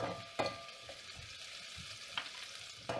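Onions and curry leaves sautéing in a pan for potato kurma, a soft, steady sizzle with a few sharp spatula taps and scrapes spaced through it.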